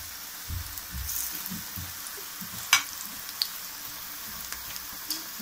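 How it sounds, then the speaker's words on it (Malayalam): Onion vada frying in oil, a low steady sizzle heard alone with soft crackling and one sharper pop near the middle, the frying fairly faint and even throughout. "ഇപ്പം ഇതിൻ്റെ ഒരു സൈഡ് നന്നായിട്ട് മൂത്ത് വന്നിട്ടുണ്ട്."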